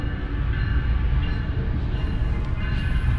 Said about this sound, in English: And you can see the train behind me.